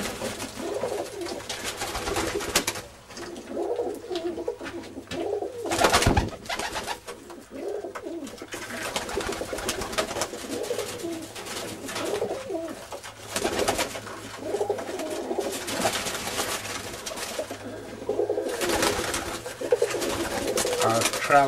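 Tippler pigeons coo repeatedly in soft, rolling phrases, close and steady, over continuous background noise in a loft setting, with no voices heard.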